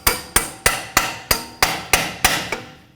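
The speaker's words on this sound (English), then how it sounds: "The tabs need to be bent down. You can usually do it by hand or with a punch and a hammer." A hammer striking a punch to bend down the tabs of a rear brake backing plate on a 1999-07 Chevy Silverado, eight sharp metallic strikes at a steady, even rhythm, close and loud with no talking.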